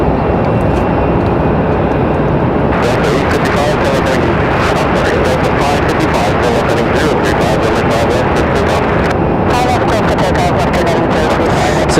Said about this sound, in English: So Alaska coming in from Seattle. Coming in on the MAX 9 today.